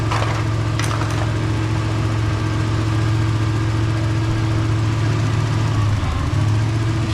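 A Nissan Z car engine idles steadily in a garage, a loud, continuous low rumble with a smooth even hum throughout and no talking.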